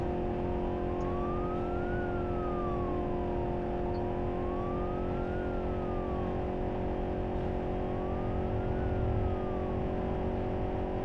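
A police car siren wails in slow rising and falling sweeps over a steady engine drone during a chase in a driving video game, continuous and fairly loud throughout.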